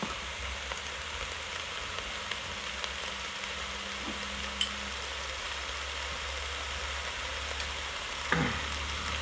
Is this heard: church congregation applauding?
no